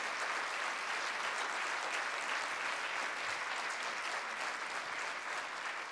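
Sustained audience applause for Philippe Perrin at a talk, dense and steady clapping filling the room for about six seconds without a break, with no voices over it.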